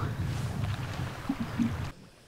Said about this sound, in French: Et c'est tellement calme, il y a juste le bruit de l'eau.